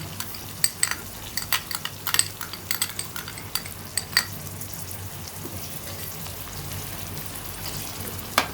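Yogurt stirred into a sizzling vegetable pulao masala of potatoes and peas in a pan: a steady frying hiss under repeated sharp clinks and scrapes of a spoon against the metal pan, irregular and close.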